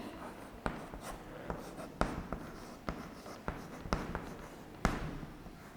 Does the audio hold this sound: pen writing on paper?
yes